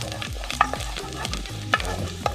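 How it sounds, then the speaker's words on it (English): Garlic sautéing in a little olive oil for a one-pot chicken stew, a steady close sizzle broken by a few sharp utensil clinks and scrapes against the pot. "I'm using some garlic, so I'm just sauteing them just a little bit."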